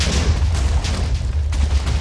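Massive chains of TNT explode in Minecraft, a dense, continuous rumble of overlapping booms and crackling blasts with heavy low-end, loud and unbroken throughout.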